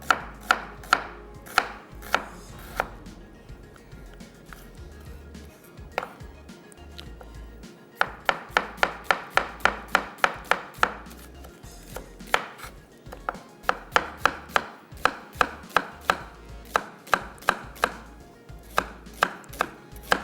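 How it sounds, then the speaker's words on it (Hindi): An onion is sliced with a knife on a board for a kaleji recipe, producing crisp, steady rhythmic chops in quick bursts with brief pauses, close and clear, with no talking. "प्याज को करते हैं स्लाइस"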